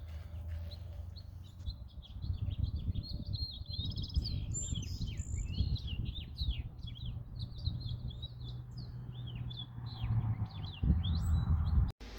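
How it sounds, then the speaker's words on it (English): Springtime birds sing and chirp continuously in rapid high twittering phrases, close and clear, over a steady low rumble of background noise with no talk. "Listen to these springtime birds."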